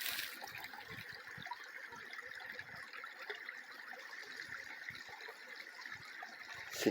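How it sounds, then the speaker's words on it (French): A stream of running water flows steadily on a calm spring outing, a continuous soft rushing and trickling wash with small splashes, heard from fairly close and with nobody talking. "le bruit de l'eau qui court"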